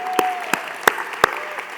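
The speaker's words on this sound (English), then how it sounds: "We gotta clap that up." Crisp, spaced claps from an audience honoring Big Daddy Kane at a hip-hop celebration, a handful of loud individual hits over a low hum.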